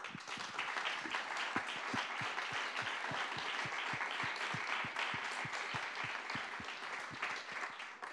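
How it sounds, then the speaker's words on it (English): An audience at a Geneva roundtable on internet governance applauds panelists, sustained even clapping with distinct individual claps audible near the front, lasting several seconds without talk. "please join me in giving them a round of applause"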